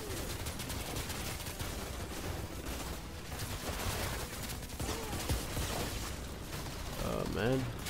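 Gunfire in the video game Outriders, dense rapid bursts of automatic shots layered with mechanical clatter throughout, steady and fairly loud, with game voices and effects mixed in.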